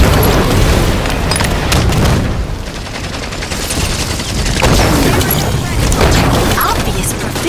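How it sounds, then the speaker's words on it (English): Heavy booming blasts and rapid gunfire from a Halo 5 capture-the-flag match, with loud explosive bursts rolling continuously under shouted voice lines. "Grenade out."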